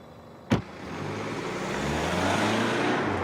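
A car door thuds shut, then an engine starts up and the car pulls away, its steady road rumble building gradually and staying close, with no voices.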